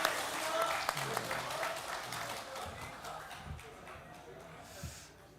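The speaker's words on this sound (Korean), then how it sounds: "우리 잘 갔다 오라고 박수하겠습니다." A church congregation at a Sunday worship service claps together, the applause faint and diffuse, with some shuffling and murmured voices as it gradually dies down.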